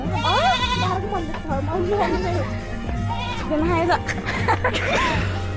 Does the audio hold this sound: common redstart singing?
no